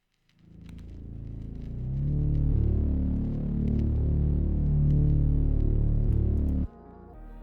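Deep bass line in a dark FL Studio trap beat, its volume automated so it swells in gradually, a thick sustained low rumble rising and holding before cutting off near the end.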